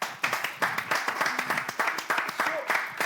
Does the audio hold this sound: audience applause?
yes